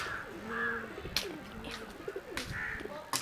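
Pigeons coo repeatedly in soft, low rolling calls, a couple of bursts close by, with sharp clicks and rustling noises scattered between them.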